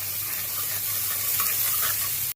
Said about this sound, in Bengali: এটা মোটামুটি লাল লাল করেই ভাজা হয়ে গেছে, এবার কর্নগুলো দিয়ে দিচ্ছে